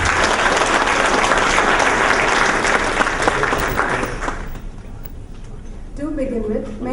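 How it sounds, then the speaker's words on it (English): A big round of applause welcomes dignitaries onto the dais at an inaugural ceremony. Dense, loud clapping fills the hall for about four seconds, then fades away to quiet room noise with a brief voice near the end. "let's welcome them formally with a big round of applause"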